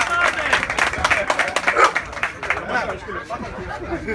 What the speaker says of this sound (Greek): ας χειροκροτήσουμε το Σταμάτη και το φίλο Σταμάτη